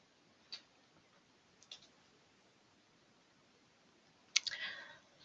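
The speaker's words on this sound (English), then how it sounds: "I'm going to click OK to accept the change." A computer mouse clicks on an OK button, giving a few faint, sharp clicks spread across a few seconds in an otherwise quiet room, the last click slightly louder and followed by soft rustling.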